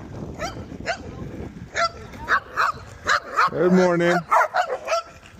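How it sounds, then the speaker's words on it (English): Several dogs bark and yip in bursts at varying distances along a morning bike ride through the East Mountains of Albuquerque, with a person speaking briefly amid the barking. "Dang, lots of dogs."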